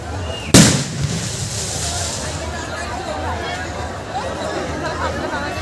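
A single loud firecracker bang bursts out at a Gajan festival in Indas block, Bankura, then a crowd keeps chattering and murmuring steadily behind it.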